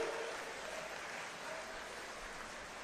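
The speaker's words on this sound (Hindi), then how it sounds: "एक बार खड़े होकर ताली बजा दो" Applause from a standing audience at a political rally with Manish Sisodia, a dense, even wash of clapping that holds steady for a few seconds without fading.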